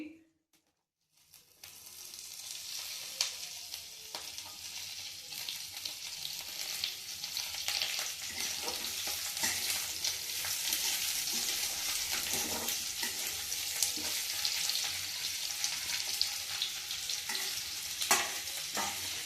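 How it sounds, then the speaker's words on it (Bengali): Chopped onions frying in a pan, a dense continuous sizzle that starts abruptly after a brief quiet moment and holds steady, close and fairly loud, with occasional stirring scrapes. "পেঁয়াজ কুচিগুলো ভালো করে এখানে ভাজতে হবে লাল করে।"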